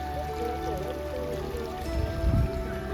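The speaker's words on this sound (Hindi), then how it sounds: "यहाँ पर ये फॉल का पानी नीचे जाता हुआ" Vasudhara waterfall in the mountains near Badrinath, heard as a steady, moderately faint rushing wash of falling water, with a brief louder low thump near the end.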